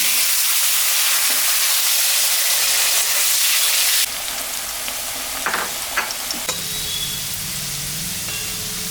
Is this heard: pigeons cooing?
no